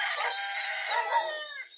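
A Rhode Island hen on a farm gives a drawn-out, strained crowing cry, close and clear, with no talking over it.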